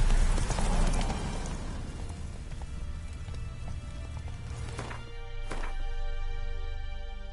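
The horse Roach's hooves in a video game clop along in a steady, close rhythm over a low rumbling ground, slowing near the end with a couple of sharper thuds.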